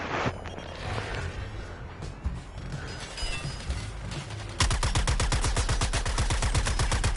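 Gunfire in the video game Suicide Squad: Kill the Justice League: a busy, mixed battle soundscape of shots and crashes gives way after a few seconds to a loud, steady stream of rapid automatic fire.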